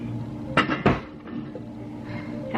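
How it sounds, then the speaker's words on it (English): A kitchen drawer is shut twice during home baking, two short solid knocks close together against a quiet room with a faint background hum. "And then watch fingers as you close the drawer."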